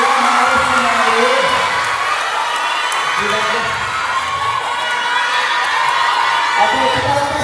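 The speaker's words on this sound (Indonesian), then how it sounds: "kita beri tepuk tangan untuk Dara, Seva dan juga Dea yang harus kembali." A crowd at a fan meet in Bali cheers, whoops and shouts continuously, loud and dense, with high-pitched voices and clapping mixed through the din.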